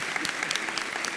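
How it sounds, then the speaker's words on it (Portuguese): A church congregation applauding together, a steady wash of many hands clapping throughout, fairly loud and close with no break. "Gente, vamos aplaudir Jesus pelo Clovinho?"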